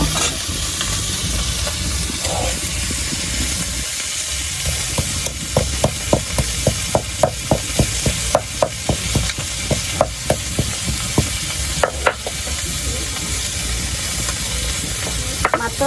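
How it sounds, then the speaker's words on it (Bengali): Fish fries in a pan with a loud steady sizzle, while a regular series of sharp thumps runs through the middle, likely spices being pounded nearby, no talk. "এবার আমি মাছ ভাজা হতে হতে মশলাগুলো বেটে নিব"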